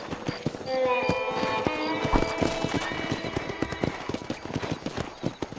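Horse hooves clip-clop in a quick, steady rhythm with a whinny near the start, up close over faint background sounds, in the video game Red Dead Redemption on PC.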